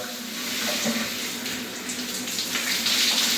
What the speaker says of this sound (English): So while you're just taking a shower,